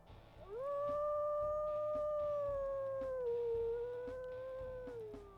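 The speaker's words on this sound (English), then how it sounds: "Let's listen to the howl as well." A single long wolf howl from WolfQuest rises quickly, holds a steady mid pitch and then dips slightly lower before fading, clear against a quiet game background.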